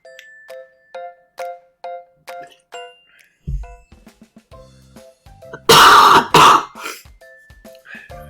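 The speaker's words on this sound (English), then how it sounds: "I need to cough" A person coughs and clears their throat in a loud harsh burst midway, after a run of soft repeating chime-like tones and a few small thumps.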